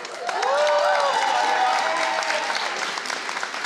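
An audience applauds State Controller Malia Cohen at the 2023 California Ethnic Media Awards ceremony: a loud, sustained wash of clapping with some cheering voices that swells quickly, holds, then gradually thins.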